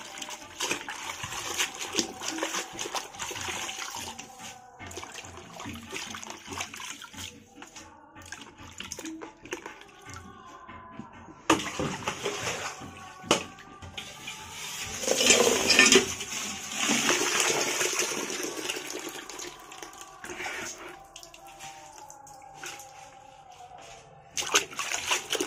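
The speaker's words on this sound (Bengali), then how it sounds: "অনেকক্ষণ ধরে এটাকে ধুতে হবে, অন্তত 8-10 বার তো ধুতেই হবে" Leafy greens caked with dust and soil are rinsed repeatedly in water, with splashing, sloshing and dripping that rise and fall in uneven bursts over the whole stretch.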